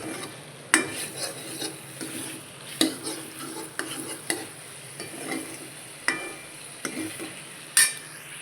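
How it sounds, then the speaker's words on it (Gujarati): Manchurian gravy stirred in a pan, a spoon scraping and clinking against the metal in spaced strokes over a faint low bubbling, close and without talk. "હવે થોડીક વાર હલાવી પછી મૂકી દઈએ."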